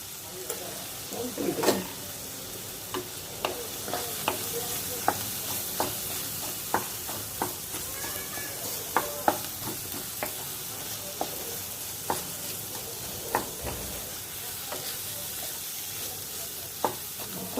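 Tomato with coriander, chilli, turmeric, dry ginger and ginger frying in a pan for lobia, giving a continuous sizzle broken by regular stirring scrapes and clicks of a spoon, with no talk.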